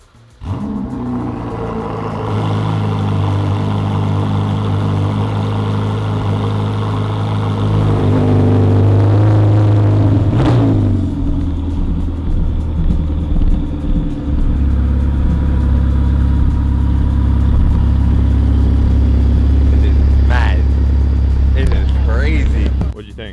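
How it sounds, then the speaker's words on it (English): A Ferrari 488 Pista starting up, with a loud cold-start surge settling into a deep, steady idle rumble close by, a sharp blip midway and faint voices under the engine. "gonna start it up for the first time and then take it outside."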